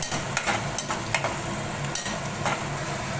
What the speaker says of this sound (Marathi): आता त्याच्या कांदा टाकले टोपामध्ये कांदा चांगला हलवून घेतो आपण